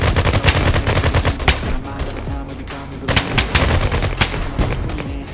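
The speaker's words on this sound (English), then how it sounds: "Let's try that pistol." Rapid, loud gunfire in the shooter game Bullet Rain, many sharp cracks in quick succession, dense and near, with faint voices underneath.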